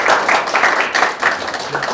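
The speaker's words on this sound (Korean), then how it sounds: "박수 한번 해주십시오." A church congregation bursts into loud, close applause, a dense wash of clapping that swells and fades over about two seconds.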